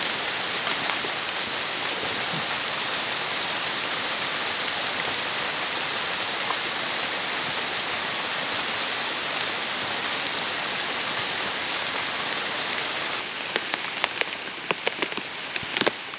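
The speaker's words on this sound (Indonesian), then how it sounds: "hujan udah mulai deras nih, udah gede" Heavy rain pours down in a mountain forest in a dense, steady hiss of drops on leaves and ground, loud and unbroken, with sharper drip taps near the end and no talking.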